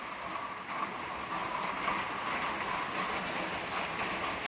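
Rain falls steadily outdoors at a property with vehicles parked in a green yard, a constant loud hiss of drops with no voices.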